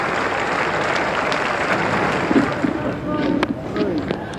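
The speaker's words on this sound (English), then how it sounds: "So applause around the ground." Cricket crowd at a 1992 World Cup match between South Africa and Sri Lanka applauding around the ground, a steady broad wash of clapping and crowd noise with a commentator talking over it.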